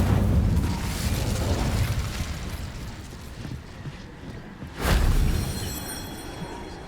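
The Incendio fire spell in Hogwarts Legacy is cast as a roaring, rushing blast with a sharp whooshing burst partway through, then a fading rumble. Nobody speaks over it.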